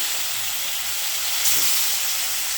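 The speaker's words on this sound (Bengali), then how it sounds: "তেলের মধ্যে এভাবে মাছগুলো দিয়ে" Fish pieces hiss in hot oil in a pan, a dense, even, close sizzle that stays loud and steady throughout, with a brief brighter flare of spattering midway.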